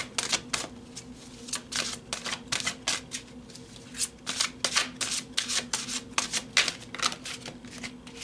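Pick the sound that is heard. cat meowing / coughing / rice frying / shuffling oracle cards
shuffling oracle cards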